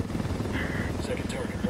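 Video game helicopter rotor chopping in a continuous low thrum, with voices talking over the steady drone for the whole short stretch.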